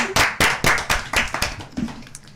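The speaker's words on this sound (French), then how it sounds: "On l'applaudit quand même." A few people clap at a worship and praise gathering, with roughly eight or nine loud, close, distinct claps in an uneven rhythm that quickly thins out.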